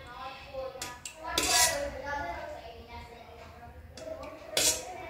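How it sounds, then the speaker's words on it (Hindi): A spoon clinks and scrapes against a metal bowl as churma laddoo mixture is worked together with warm ghee, in bursts of close clattering with a voice faintly in the background. "अभी देखो ये मिक्स कर रही हूँ मैं"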